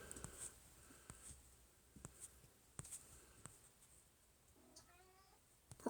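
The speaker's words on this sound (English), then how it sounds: "Oh, silly cat." A domestic cat meows in a short harmonic call near the end, heard close by in a quiet indoor room after a few faint taps and bumps.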